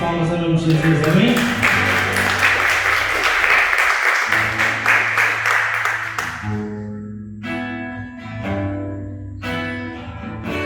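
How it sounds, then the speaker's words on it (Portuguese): A church congregation claps during an evening worship service while music plays, with rhythmic applause loud in the first half over sung or amplified tones, then fading as the music carries on. "As palmas em nome de Jesus"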